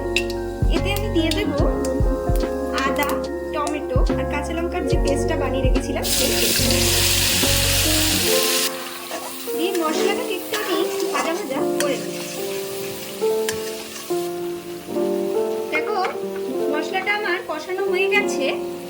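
Fennel seeds frying in hot oil as a tempering for a cauliflower dum gobi, a steady loud sizzle with stirring and a short burst of broadband crackle, heard under talk throughout.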